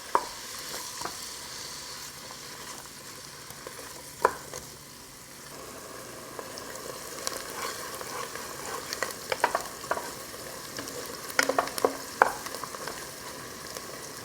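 Onion sweats and sautés in a pan for goose gumbo, a soft, steady sizzle punctuated by occasional spoon clicks and scrapes that grow busier toward the end.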